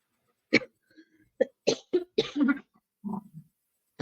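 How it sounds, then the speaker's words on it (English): A series of short, sharp coughs, close and fairly loud, spaced irregularly with brief pauses between bursts. "And I'm coughing."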